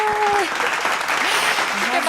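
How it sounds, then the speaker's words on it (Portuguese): Brief applause rises from a small audience at a talk on personal image, a soft, crackling patter mixed with voices speaking over it. "Bota palmas aí, Lucas."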